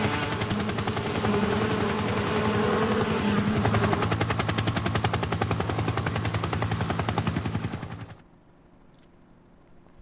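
A helicopter in Metal Gear Solid 3: Snake Eater thrums with a fast, steady rotor chop, loud and close for about eight seconds before cutting off abruptly into near silence.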